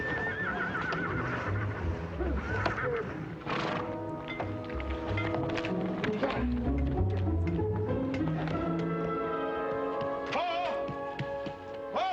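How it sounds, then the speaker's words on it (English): Horses loose in a pasture whinny and neigh repeatedly over a bed of clip-clopping hooves, loud and close, with several animals calling one after another. "3 horses got out of the corral last night and they're running loose out there in the pasture"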